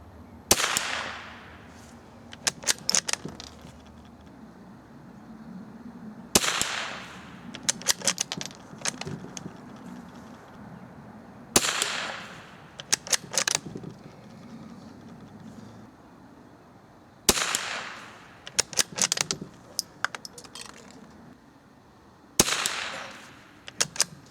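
Remington Model 582 rifle fired outdoors at a far target, five loud sharp shots spaced several seconds apart, each followed by a brief metallic rattle of action cycling and a decaying echo, with quiet ambience between.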